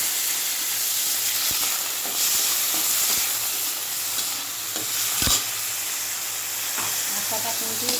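Flour frying gently in oil with white cumin in a pan, a steady close hiss and sizzle with occasional soft clicks of stirring, no voices.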